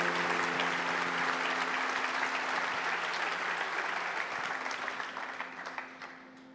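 A church audience at a Brazilian Christian gathering bursts into steady, full applause, holding thick and even before tapering off at the end.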